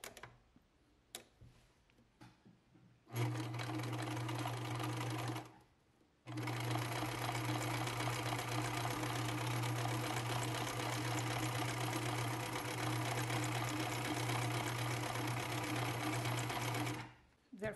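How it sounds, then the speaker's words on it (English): A sewing machine sews a scallop stitch on a dollhouse bed sheet in two steady stretches, a short burst then a long continuous whir of rapid stitching, close and clear. "I'm gonna try a scallop stitch on my sewing machine."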